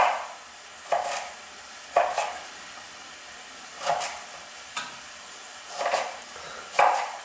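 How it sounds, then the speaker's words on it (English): A knife cuts through Brussels sprouts on a board in a series of quiet, crisp chops spaced about a second apart, close and fairly soft with no talking over them. "you want to cut it into either quarters, or if they're smaller Brussels sprouts, you can cut them into just, you know, halves like that too"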